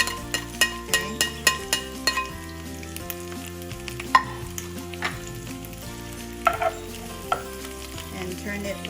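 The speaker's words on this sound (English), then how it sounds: "we just need to brown our garlic here for a sec" Garlic browns in a little oil over medium-high heat for Kapampangan chicken adobo, with a soft sizzle under steady, rhythmic musical tones and no talking.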